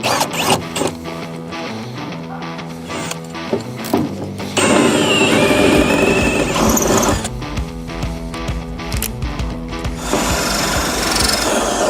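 Bursts of mechanical drilling into material with a power drill, stopping and starting several times, fairly close and loud, with no talking.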